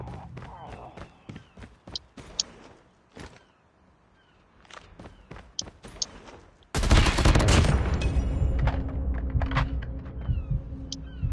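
Gunfire from a one-on-one video game gun match: scattered sharp single shots and footsteps at first, then a sudden loud sustained barrage of rapid fire fills the second half.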